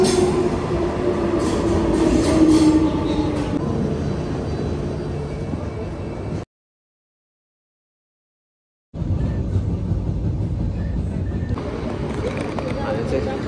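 A metro train rumbles loudly into the platform with rising mechanical roar and squealing tones, people talking nearby; the sound cuts out briefly midway.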